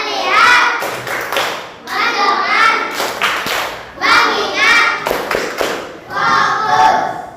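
A classroom of children performs a rhythmic focus clap, their chanting voices interleaved with bursts of hand claps in a steady, repeating pattern, close and fairly loud throughout.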